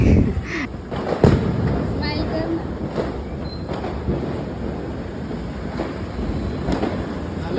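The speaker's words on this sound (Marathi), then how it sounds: "इथं फटाके वगैरे उडवले वाजवले" Several sharp Diwali firecracker bangs and crackles pop off outdoors, scattered irregularly over a steady background rumble, with voices occasionally audible.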